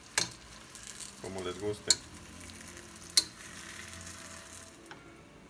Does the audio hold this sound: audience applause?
no